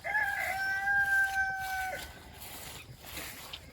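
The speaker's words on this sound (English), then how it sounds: "As you can hear, all the chickens are out." A rooster crows nearby, its long tonal call held for about two seconds, while chickens cluck and mutter faintly around a farm lot, with no talking.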